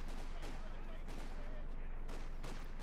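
Artillery shells bombard a house in the World War II strategy game Company of Heroes 2, with repeated sharp blasts and crackling gunfire over a constant battle din while a commentator talks.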